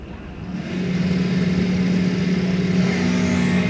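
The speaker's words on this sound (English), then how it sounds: "TJ Dykema did a big wheelie, but he was not ready when the green light came on" A drag racing car launches at an NHRA National Open race, its loud engine roar swelling within the first half second and then holding a steady, powerful drone to the end.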